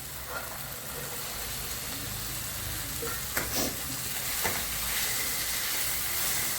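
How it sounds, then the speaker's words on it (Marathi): Green peas sautéing in a pan with salt for a peas and potato curry, a steady broadband sizzle with a few stirring scrapes and clicks, close and continuous with no talking. "वाटाणे परतून घेऊ चांगले"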